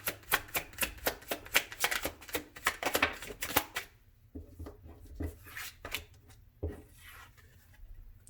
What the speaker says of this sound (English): my shuffling may be a little bit off. But I must shuffle.